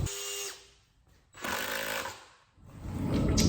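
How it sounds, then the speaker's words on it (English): An impact wrench drives a screw into reclaimed wood for a distillery chair build, with three close bursts of rapid hammering separated by short pauses, the last burst longest. "I'll use my impact wrench here and drill it down."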